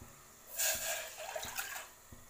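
Water poured into a pan set on a gas stove while making haldi kadha, a soft splashing pour lasting about a second and a half, quiet and close with no talk.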